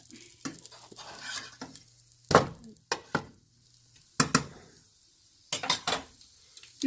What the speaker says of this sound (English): now that I have that side seasoned, I'm going to flip it over